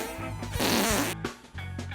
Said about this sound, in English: fart is funky